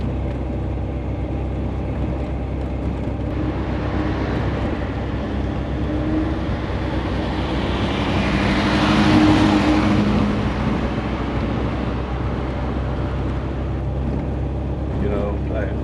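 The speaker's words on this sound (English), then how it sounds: "I think it's the fuel pump. It makes a lot of racket, constantly." A 1972 MGB with its 95-horsepower engine drones steadily on the move while its fuel pump adds a constant racket, swelling briefly louder midway, with talk over the top.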